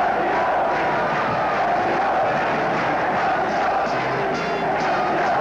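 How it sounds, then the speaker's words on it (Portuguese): A large stadium crowd of São Paulo supporters celebrates the 1980 São Paulo state championship win after the final whistle, a dense, continuous roar of cheering and chanting that stays loud and steady throughout. "Com o fim do jogo, começou a grande festa da torcida tricolor."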